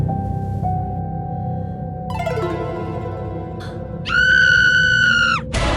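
A girl's high, sustained scream cuts in near the end over a droning, eerie musical background.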